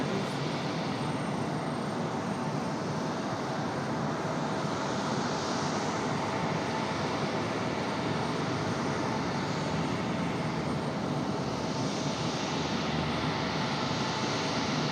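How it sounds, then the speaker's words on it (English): An Alaska Airlines airliner taxis at Raleigh-Durham airport, a steady, continuous jet engine whine and rumble from a moderate distance, unbroken and without speech. "Alaska ready to slide out here. Alaska Airlines on the move."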